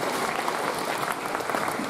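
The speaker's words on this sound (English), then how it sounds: "give yourselves a round of applause" An audience at a middle school family meeting applauds, a dense, steady clapping that fills the room throughout.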